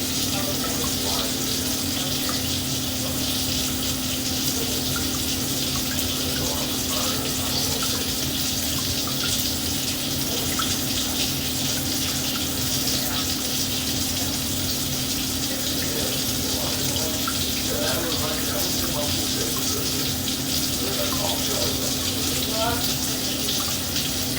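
Water running steadily from a house plumbing fixture, a continuous broadband hiss with a low hum underneath, close and constant throughout with no clear talk.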